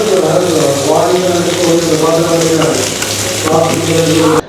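Seer fish (vanjaram) frying in a pan, a loud, dense sizzle running steadily throughout with a voice talking over it, then cutting off abruptly at the end.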